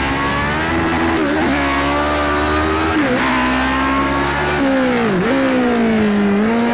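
Lotus 49 race car engine in Project Cars 2, a loud, continuous high-pitched howl whose pitch rises and dips with throttle and gear changes, heard up close with no talking.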